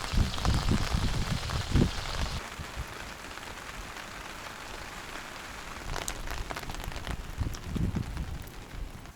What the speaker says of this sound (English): There's a little bit of rain, a little bit of coldness, a little bit of wind